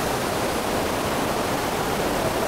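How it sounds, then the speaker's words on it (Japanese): Fukuroda Falls waterfall at night gives a steady, dense roar of rushing water, continuous and fairly loud with no voices. "白色の LED が当たってる滝が結構綺麗に見えてますね"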